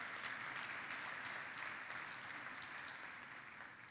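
A church congregation bursts into sustained applause during a sermon, a dense wash of many hands clapping at once that holds steady and slowly fades toward the end, with no voices over it.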